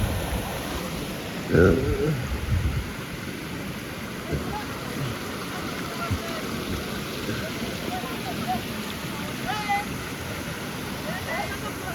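A broad, constant roar of water rushing down a waterfall in Lonavala fills the scene, with a brief louder splash or knock early on and faint voices in the background.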